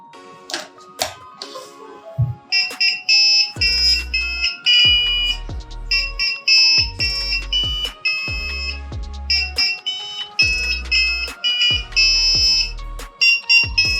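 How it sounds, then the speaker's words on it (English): An Arduino Uno buzzer plays the Happy Birthday tune, a sequence of shrill electronic beeping notes in a clear melodic rhythm, close and loud, with no talking. "So now we will power our Arduino and the Happy Birthday tune will play."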